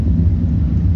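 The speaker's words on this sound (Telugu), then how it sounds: "ఇది ఆటోమ్ బాంబ్." Atom bomb explosion sound effect, a dense, sustained low rumble that stays loud and steady throughout without a distinct onset or pauses, alone with no voices.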